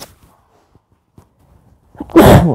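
Near silence with faint shuffles, then a single loud, sharp sneeze bursts out close to the microphone at the end.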